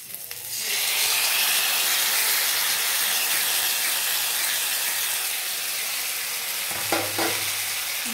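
Ground poppy-mustard spice paste hits fried drumsticks in a hot pan, a loud, broad sizzle that builds within the first second and holds steady, with stirring scrapes near the end and no talk.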